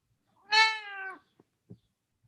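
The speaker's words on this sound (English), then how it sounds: "That's my cat." A house cat gives one clear, close meow that rises and then trails off, followed by a couple of faint soft knocks in an otherwise quiet room.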